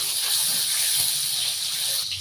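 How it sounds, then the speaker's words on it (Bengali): Sliced onions sizzle as they hit hot oil left over from frying fish, a steady bright hiss that holds evenly and close, with no talking. "মাছ ভাজি তেলে আমি পেঁয়াজ দিয়ে দিচ্ছি,"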